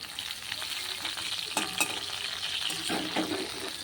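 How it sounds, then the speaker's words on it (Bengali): Katla and hilsa fish fry in oil in a pan, giving a steady close sizzle with brief spatter bursts and a light scrape of stirring, and no voices. "এই সাইডে হচ্ছে ইলিশ মাছ আর এখানে দুটো ভাজা হচ্ছে"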